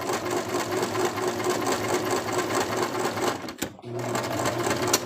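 A sewing machine stitching fabric for a plush toy runs in a steady fast rhythmic whir, stops briefly and then starts again, with a voice talking over it.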